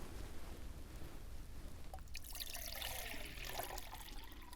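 Water pours at a campsite in freezing conditions while a kettle is being filled, a steady close trickle that grows brighter and splashier partway through, with no talk over it.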